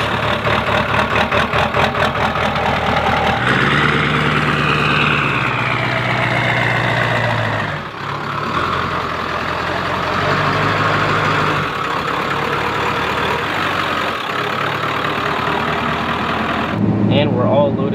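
A 7.3 diesel truck engine rumbles at a steady idle with a low knocking clatter, its pitch shifting a few times, and someone talks over it throughout.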